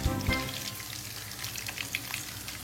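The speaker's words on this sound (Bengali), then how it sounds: "আর মেন টাইম আমরা অন্য সাইডে আমাদের চিংড়িগুলোও ভেজে ফেলছি।" Prawns frying in a pan on lowered heat, a steady close sizzle with a couple of low knocks at the start.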